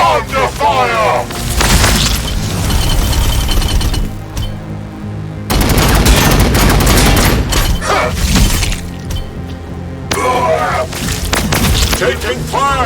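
Gunfire and explosive booms in the Warhammer 40k: Battlesector game, dense continuous battle noise with heavy impacts, while soldier voices shout over the fighting.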